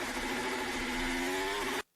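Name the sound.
F1 car engine, power cut from lack of traction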